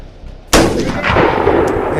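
Gunfire during a police raid on a house: one loud, close blast cracks out abruptly and rings on with a dense echoing tail, with no talking.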